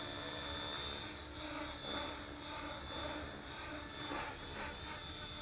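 Radio-controlled model helicopter flying and pirouetting nearby, its tail rotor and main rotor giving a steady high whine with rhythmic swells in loudness, fairly faint and without talk.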